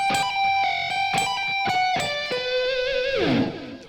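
An electric guitar plays a quick lick in flickering minor-second harmony, with rapid repeated picked notes over a ringing, wavering pair of tones. It ends in a bent, sliding note, loud and close, with no voices.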